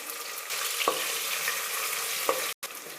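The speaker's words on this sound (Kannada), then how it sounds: "ಈಗ ಈರುಳ್ಳಿ ಒಂದು ಅರ್ಧ ಫ್ರೈ ಆಗ್ತಿದೆ" Onion half-fried in hot oil for a tempering, a steady continuous sizzle with a couple of faint clinks from stirring, close and alone with no talk.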